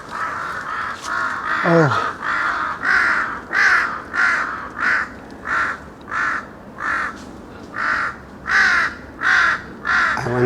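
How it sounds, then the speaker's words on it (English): Crows caw loudly and steadily in a forest park, a long, evenly spaced series of harsh calls repeating about once a second, with one brief exclamation from a person near the start. "I wonder why those crows are."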